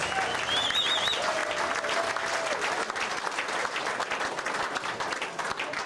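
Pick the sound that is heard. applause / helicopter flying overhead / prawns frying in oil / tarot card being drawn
applause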